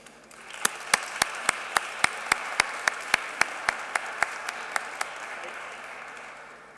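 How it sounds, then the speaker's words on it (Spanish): Audience applause at an international scientific congress for its scientific committee, a wash of clapping with a few loud, evenly spaced claps standing out near the microphone, fading gradually toward the end. "les pido un fuerte aplauso para ella y para todas las personas que forman este extraordinario comité"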